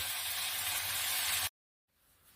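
Lardons frying in a pan for quiche Lorraine give a steady, dense sizzle for about a second and a half, then cut off abruptly into near silence with only a faint hiss returning.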